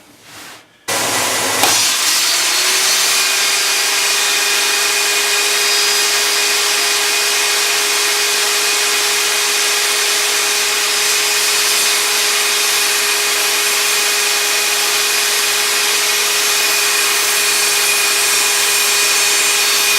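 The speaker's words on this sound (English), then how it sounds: "I raised the blade so that it goes through the board here, and now I should be able to make the final cut here" A power saw blade rips through fiber board: a brief start, then a loud steady high whine and cutting roar that holds evenly for the rest of the long stretch, no talk.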